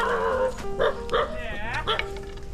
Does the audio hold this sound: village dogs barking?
yes